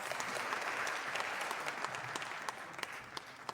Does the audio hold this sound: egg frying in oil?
no